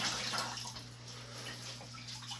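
Water being scooped and sloshed out of a toilet bowl during a toilet replacement, a soft continuous splashing and trickling under a low steady hum, close and faint.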